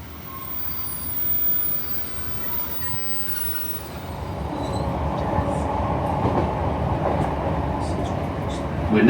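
Northern passenger train on the line toward Saltburn rumbles steadily from inside a carriage, the roar building and growing louder partway through.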